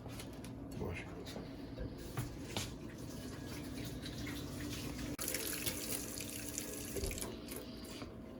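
Tap water runs steadily into a kitchen sink while food is washed under it, a continuous splashing hiss with shifting spatter as the item is turned, and a person's voice briefly in the background.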